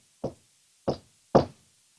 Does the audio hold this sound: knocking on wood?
yes